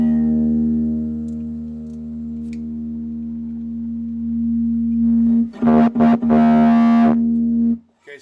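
A sustained buzzy electric guitar tone with distortion, holding steady before a few choppy bursts near the end and then cutting off.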